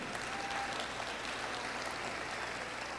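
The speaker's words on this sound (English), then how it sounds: "Let's give the visitors a big round of applause here" A graduation audience applauds visiting guests with steady, dense clapping that fills the hall evenly and continuously, slightly distant, with no voices.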